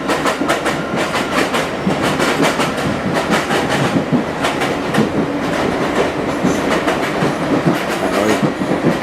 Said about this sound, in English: Overtaken by diesel service here.